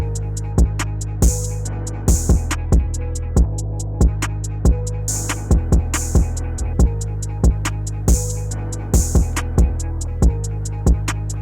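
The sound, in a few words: sampler XY effects demo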